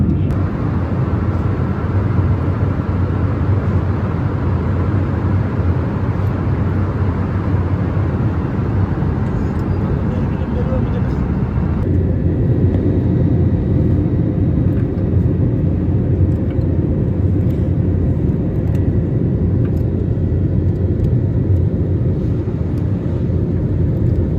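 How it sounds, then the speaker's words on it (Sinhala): An airliner descending to land in Thailand, heard from inside the cabin as a constant loud engine and airflow drone that shifts to a slightly lower, smoother rumble partway through. "දැන් අපි තායිලන්ඩ් වලට ලෑන්ඩ් කරන්න තමයි යන්නේ"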